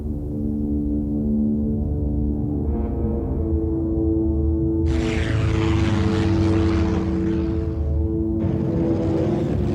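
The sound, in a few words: Avenger torpedo bomber aircraft engine flying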